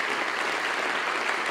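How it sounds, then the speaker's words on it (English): An audience at an honorees concert event applauds board members, a brief, dense wash of many hands clapping at an even, sustained level. "Help me applaud each and every one of them."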